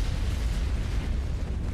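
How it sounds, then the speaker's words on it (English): A video game explosion gives a sustained, rumbling low boom that fills the short moment at steady loudness, with no voices over it. "Explosion. Boom."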